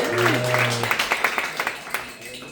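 A bar audience at a comedy set claps for a couple of seconds, scattered hand claps rising and fading, after a brief voice at the start.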